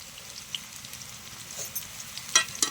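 Potato and taro sizzle softly in a hot pan, a low steady frying hiss with a few sharp pops and clinks near the end.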